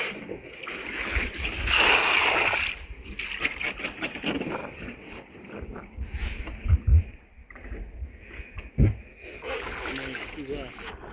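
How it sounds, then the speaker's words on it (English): Water sloshing and splashing as a canoe is bailed out with a big bucket on a river, in irregular scoops and pours with moving water and wind in the background, while a person talks. "get my canoe drained out using this big bucket"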